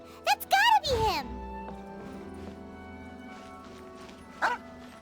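A puppy in the Genshin Impact video game gives a few quick high yips and barks up close, then a short final yelp after a pause, with game music and voice in the background.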